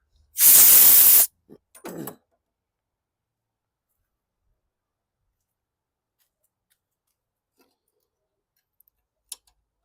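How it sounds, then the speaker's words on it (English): Compressed air blasts off two gas-dipped 10 mm bolts from a 2010 Toro Recycler lawn mower: one loud, steady hissing burst of about a second, then two short puffs, followed by near silence with a faint click. "so I'm going to blast those off with some compressed air"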